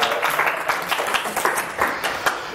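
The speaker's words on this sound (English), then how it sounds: "Give me a round of applause." An audience claps a round of applause at an indoor hypnosis training session, with dense, steady clapping throughout and a few sharper individual claps standing out.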